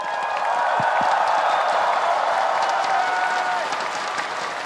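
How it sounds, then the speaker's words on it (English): Sustained applause from a large esports arena crowd at the MSI 2025 League of Legends grand final, dense clapping with some cheering, steady and loud throughout. "A round of applause for Chovy."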